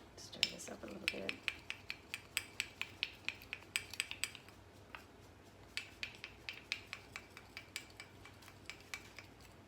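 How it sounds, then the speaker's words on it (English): Frankincense and myrrh soap mixture stirred by hand, with a steady run of light scraping and clinking strokes against the container, close and fairly quiet, pausing briefly midway before the rhythm resumes. "Keep stirring this. Stir this up a little bit."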